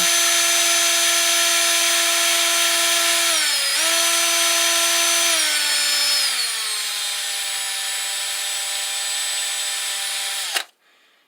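Small rotary power tool spinning at high speed while polishing Ruger SP101 trigger parts with metal polish, a steady high-pitched whine that dips in pitch under load several times before the motor shuts off abruptly.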